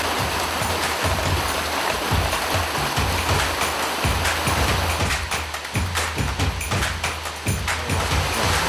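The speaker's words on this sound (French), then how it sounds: "le jet d'eau qui est juste à côté, donc pour cette petite cascade" A small waterfall splashes beside a river stream along an off-road trail, giving a constant close rushing and gurgling roar of water with sharper splashes toward the end.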